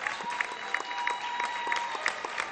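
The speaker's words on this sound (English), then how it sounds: "he'll get a big round of applause as he checks" A gym crowd at a state tournament high school boys' varsity basketball game applauds a player checking out, with steady moderate clapping and scattered crowd voices.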